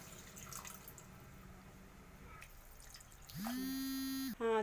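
Water trickles and drips quietly into a pan of chicken curry, followed near the end by a loud, steady humming tone.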